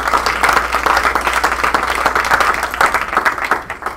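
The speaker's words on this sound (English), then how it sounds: "You guys give a round of applause." A lunchtime team meeting audience applauds its sponsor, Green Home Solutions, with steady, fairly loud clapping from a small room of people, continuous for several seconds with no talking over it.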